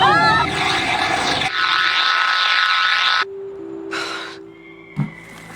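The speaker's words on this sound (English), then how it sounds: "The machines took control of that plane and flew it into the ground." A plane hacked by machines crashes into the ground in Horizon Forbidden West, heard as loud roaring engine noise with a shrill whine and cockpit alarms, then a sudden cutoff leaving tones and a faint thump.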